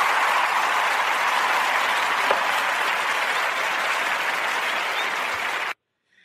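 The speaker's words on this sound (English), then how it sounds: "Round of applause first" A studio audience gives an interview guest a dense, loud round of applause. It holds steady for nearly six seconds, then cuts off abruptly into silence.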